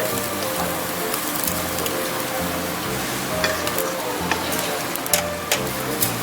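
Eel and clams grilling over charcoal give a continuous soft sizzle and crackle with scattered sharp pops and snaps, close and moderately quiet, while low murmuring and clinks sound faintly in the background.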